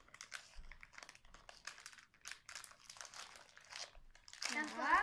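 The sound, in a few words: opening crinkly package of Mambo fruit gummies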